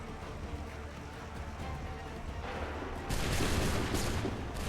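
Musket volley gunfire crackles in Assassin's Creed 3, a dense, rolling burst of many shots that swells sharply near the end over a continuous battlefield din, with no talking.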